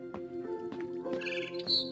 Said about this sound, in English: Then I heard chirping outside my window.